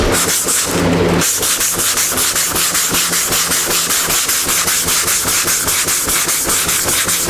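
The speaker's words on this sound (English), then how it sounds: "I'm not pushing real hard, letting the sandpaper do the work." Coarse 80 grit sandpaper on a sanding block rubs over primer by hand in steady, rhythmic back-and-forth strokes, loud and close, with light pressure.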